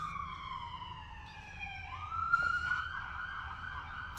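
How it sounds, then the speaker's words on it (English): A police siren wails from a distance, its pitch sliding down as the vehicle passes, faint against a low ambient rumble. "siren in the background running my video"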